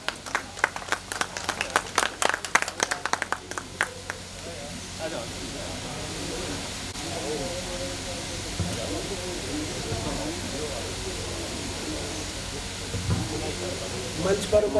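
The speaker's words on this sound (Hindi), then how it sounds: "जोरदार तालियों के साथ" A burst of crowd clapping for a few seconds at a cooperative society's annual general meeting in Bhopal fades into a steady hiss with background murmur, clapping swelling faintly again at the end.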